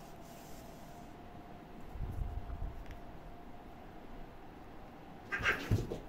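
Cats meow faintly indoors against a quiet background hum, with a soft call partway through and a louder burst of meows near the end.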